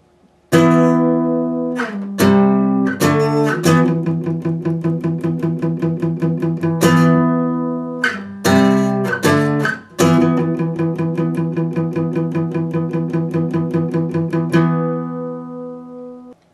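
Electric guitar plays a song's chorus twice at full tempo, ringing power chords alternating with rapid, even runs of palm-muted chugging, loud and up close, ending on a sustained chord.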